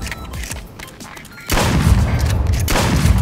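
Gunshots in the VR duck-hunting game Duck Season, a loud burst of booming shots after a quieter stretch, close and overlapping, with a voice heard faintly.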